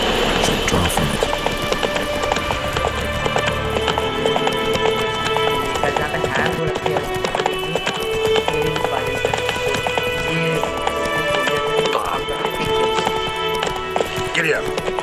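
Rapid, steady hoofbeats of a galloping horse in the Witcher 3 game, continuous and prominent over a dense layer of ambient game sound and music throughout.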